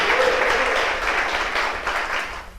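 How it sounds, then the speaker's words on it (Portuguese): A church congregation applauding, a dense steady wash of many hands clapping that fills the room and tapers slightly toward the end, loud and close. "Você pode aplaudir ao Senhor?"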